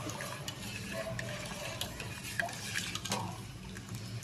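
Soft scraping and swishing of a spoon stirring green chilli paste and cumin through a semolina mixture in a pot, steady and close, with a few light clinks.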